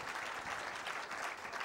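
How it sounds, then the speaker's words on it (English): A loud round of audience applause at the Zee Jaipur Literature Festival 2016, a steady continuous roar of many hands clapping throughout. "please give a loud round of applause, ladies and gentlemen"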